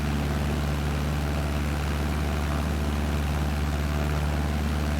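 Steady, loud drone of a Cessna 152 single-engine propeller plane in Microsoft Flight Simulator as the throttle comes up, a constant engine hum with a strong propeller tone holding level throughout and no talk.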